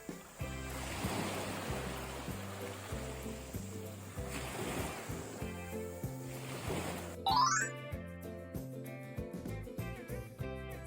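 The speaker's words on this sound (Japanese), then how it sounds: "波の音、心地いいですね。" Ocean waves wash onto a sandy New Zealand beach as a steady, soft surf, partly masked by music playing over it.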